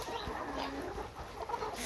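Caged laying hens cluck softly in a poultry barn, a steady murmur of several birds blending with a constant background hum and no speech.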